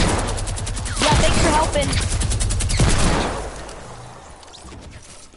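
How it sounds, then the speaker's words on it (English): Heavy automatic gunfire in a shooter video game, a loud sustained barrage with sharp cracks that fades toward the end, with players chatting over it. "Oh, yay, we're getting shot at."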